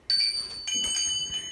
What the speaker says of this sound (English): And then I have this bell